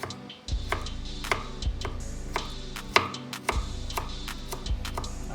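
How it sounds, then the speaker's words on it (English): A knife chops fresh garlic on a cutting board in a quick mince, with a dozen or so crisp, irregular taps spread across a few seconds, close and clear, with no one talking. "Quick mince. Again, it doesn't have to be crushed or really fine"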